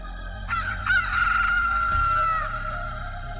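In a cartoon, a chicken lets out a single drawn-out, strained cry as a fox grabs it by the neck. It sounds close and fairly loud, with a sharp start and a wavering tail.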